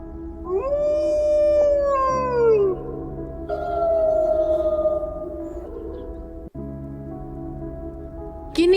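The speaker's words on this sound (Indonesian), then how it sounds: "Silver kemudian melolong dan lolongannya disambut oleh serigala lain yang ada di sana" Wolves in a wild setting howl: a long rising and falling howl from one animal, then other pack members answer with sustained overlapping howls over a steady low drone, loud and resonant.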